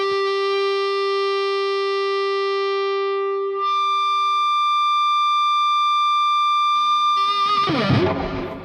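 Sustained electric guitar note through an EVH 5150III EL34 amp on the blue channel, holding steady and then blooming into shrill, piercing feedback that rings on alone and loud before a burst of noisy picking at the end.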